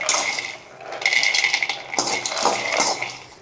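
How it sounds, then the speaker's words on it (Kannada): Peanuts dry-fried in a pan for a Kalburgi-style aubergine dish, with small, close rattles and clinks as the nuts are stirred and tossed against the metal in quick irregular bursts. "ಮೊದಲಿಗೆ ಕಡಲೆಕಾಯಿ ಬೀಜನ ಡ್ರೈ ಫ್ರೈ ಮಾಡ್ಕೋಬೇಕು"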